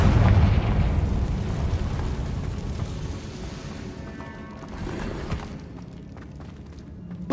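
Booming blast from the Confringo fire spell in Hogwarts Legacy, a loud low explosion at the start that rumbles and slowly fades, with a smaller burst near the middle.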